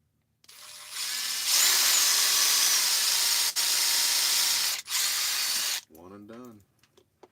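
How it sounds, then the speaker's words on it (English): A power drill drilling out a screw on a micro RC crawler whirs loudly in several sustained bursts with short pauses, then slows and winds down with a wavering, rattling tail. "I'll drill that dude out"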